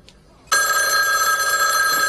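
A telephone bell starts ringing abruptly and loudly after a brief quiet moment, its sustained metallic ring continuing steadily and close by in an indoor domestic scene.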